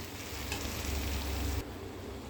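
Turmeric being stirred into a cooking dish in a pan: a soft, steady sizzle and frying hiss with faint stirring scrapes, fairly quiet and close, easing off slightly near the end.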